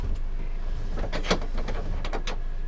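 Wooden compartment doors in the bedroom of a 2013 Coachmen Mirada 34BH motorhome slide along their track, giving a few close, short scraping and knocking bursts.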